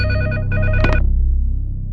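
A telephone bell rings in a short burst of bright, repeating electronic trills indoors, then cuts off, leaving a low room hum; no one speaks.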